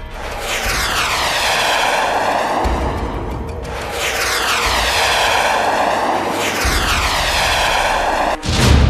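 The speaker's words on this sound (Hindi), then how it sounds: "चीन ने अपने रेडार की पकड़ में ना आने वाले फाइटर जेट दिखा दिए।" Chinese stealth fighter jets flying past, a loud continuous roar of jet engines with three sweeping pass-by swells, each rising and falling over several seconds, with no talk.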